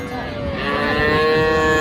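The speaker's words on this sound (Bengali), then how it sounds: "এটি গাভীর বাচ্চা" A Sahiwal cow's calf at a cattle market in Raniganj, Dinajpur, lets out a loud, close, drawn-out moo that swells in strength over about two seconds.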